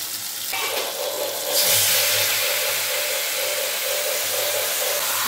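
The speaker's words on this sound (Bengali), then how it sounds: "দিয়ে এঁচোড়টাকে দিয়ে এবার ভালো করে কষিয়ে নেব" Boiled jackfruit hits hot oil and spices in a pan, starting with a soft hiss that swells into a loud, steady sizzle about a third of the way in, with a low hum underneath and no voices.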